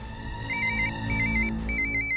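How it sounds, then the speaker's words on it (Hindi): Phone ringtone for an incoming call, a bright electronic melody repeating in short bursts with brief gaps, close and clear over a low background hum. "कामनी का फोन है, लगता है वो लोग पैसों के लिए जल्दी मचा रहे होंगे, इसीलिए।"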